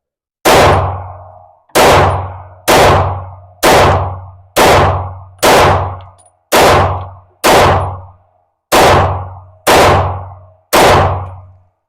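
Eleven loud, sharp pistol shots from a Taurus GX4 fired on an 11-round magazine, spaced roughly a second apart in a steady rhythm, each with a short ringing decay, close by and with no voices.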